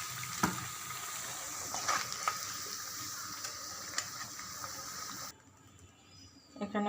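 Whole spices such as dried red chilli, cinnamon, cardamom, cumin seeds and bay leaf sizzle steadily in hot oil for tempering, a continuous close frying hiss with occasional pops that cuts off abruptly near the end.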